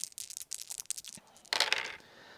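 Several dice clatter and rattle across a table during a tabletop wargame, a quick series of close, sharp clicks followed by a brief burst of tumbling.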